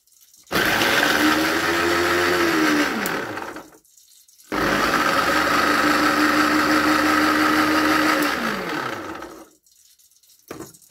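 A kitchen blender blending a sauce for salmon made with lemon juice and olive oil, with two loud whirring runs of a few seconds each separated by a short pause.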